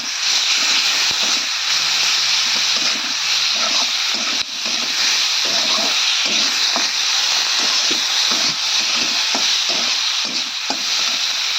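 A spoonful of ginger paste fries in a pan, loud continuous sizzling with frequent scraping and stirring knocks from a spatula, close and alone without speech.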